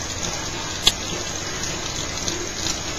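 Tap water runs in a steady, even hiss while clothing is rinsed, with one brief click partway through.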